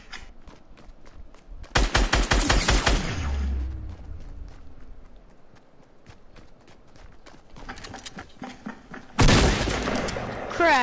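Gunfire in a PS4 shooter game, heard as two dense clusters of rapid, close, loud shots several seconds apart, with quieter game sounds between them.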